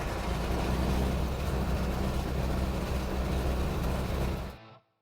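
An old truck engine pulls in road gear with a dense, steady roar, loud and close, then cuts off abruptly near the end.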